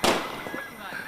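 A festival firecracker bursts with one sharp crack at the start, followed by crackling fizz and a decaying tail, with voices talking around it.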